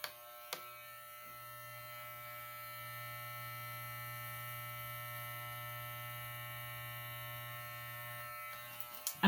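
Wahl electric hair clippers fitted with a size 8 guard buzz steadily at close range, a constant low hum after a click on and ending with a few handling knocks, with no talking.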